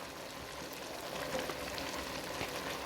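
Chopped onions sizzling in hot oil in a pan for a bean sauce, a steady close crackling hiss with no talk.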